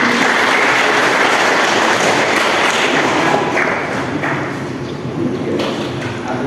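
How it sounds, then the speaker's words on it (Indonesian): An audience at a religious gathering marking the Prophet's birthday gives sustained applause, a thick wash of clapping with a few thumps, gradually thinning toward the end. "tepuk tangan buat Kang Judin."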